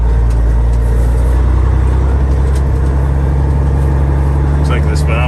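A 2006 Peterbilt 379 truck's diesel engine drones steadily and loud up close, a deep low rumble running throughout the gear change with faint higher whines above it.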